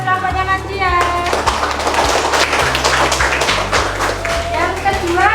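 Primary school class applauding a student group in an Indonesian classroom, a steady run of close hand claps and taps mixed with children's voices and an adult talking, with background music underneath.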